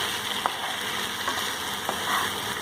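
Spiced food with amchur powder and roasted cumin powder fries and gets stirred in a pan, giving a steady close sizzle with a few soft spoon scrapes and no talking.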